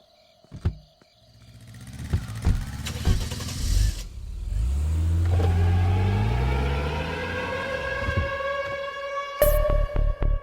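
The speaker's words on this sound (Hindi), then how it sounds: "कार निकाल।" A car engine starts, idles and revs as the vehicle pulls away, building into a sustained loud drone with a rising pitch, followed by a few sharp clunks and a brief high hiss near the end.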